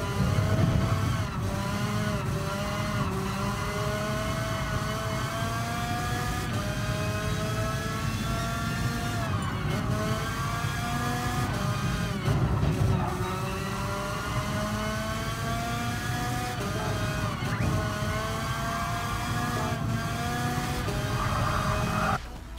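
Race car engines from GT Sport rev and whine steadily, pitch sweeping up and down through repeated gear changes, a loud continuous drone with no talking.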